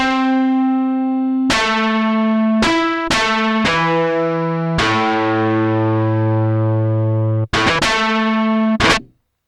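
A synthesizer plays a sequence of sustained, bright, buzzy FM tones using a PCM sample operator, with rich harmonics, each note starting abruptly and ringing, some overlapping, with no voice.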